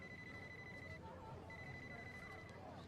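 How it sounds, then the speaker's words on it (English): A phone alarm sounds as a steady repeating electronic tone, cutting out briefly in the middle and then resuming, faint beneath a constant background hum. "Sorry, alarm. I checked my own phone."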